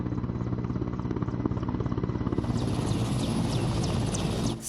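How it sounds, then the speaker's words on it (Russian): A Ministry of Defence helicopter lands at a stadium, its rotor thumping in a rapid steady beat with a loud engine whine that rises as it comes down close by, with no talking. "Строго в определенное время на землю приземляется вертолет Минобороны Республики."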